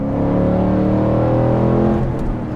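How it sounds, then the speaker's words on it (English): Ford Mustang GT fitted with an aftermarket exhaust, a loud deep engine rev that holds a rich rumbling drone and then eases off, close by and alone without speech. "This one also has an aftermarket exhaust. Sounds really awesome."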